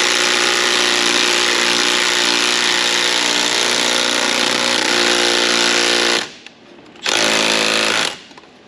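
Impact wrench hammering on a fastener of a CAT 3126 diesel engine, a loud continuous rattling burst for about six seconds, then a short pause and a second brief burst.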